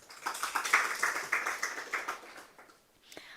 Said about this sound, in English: Allow me to re-thank her with a hand of applause.